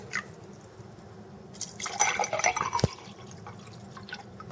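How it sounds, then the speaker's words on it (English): Distilled water is poured into a glass bowl set inside another glass bowl, a short trickling splash and drip of liquid hitting glass in the middle of the clip, fairly quiet against a soft background. "pour the water in."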